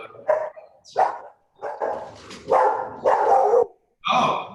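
A dog barks repeatedly nearby during an online whiskey tasting, six or so loud separate barks with short gaps between them and no talk over them.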